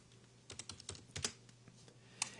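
Several computer keyboard keys pressed in a quick irregular cluster while setting up a fluid material node in 3D software, then a single later click; close and fairly quiet, no talking.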